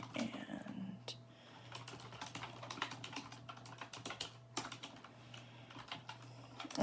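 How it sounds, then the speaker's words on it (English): Typing a message on a computer keyboard, heard as quiet, irregular bursts of key clicks close by, with a low steady hum underneath and occasional background voices. "I just typed you guys a message"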